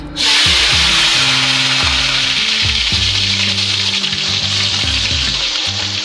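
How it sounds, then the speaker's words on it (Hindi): Two large onions tipped into hot oil already fragrant with whole spices like cardamom and cinnamon, bursting into a loud, steady sizzle that starts abruptly and keeps crackling with light stirring scrapes, no voices. "अब इसके अंदर मैं प्याज ऐड कर रही हूँ, जो 2 बड़ी प्याज है।"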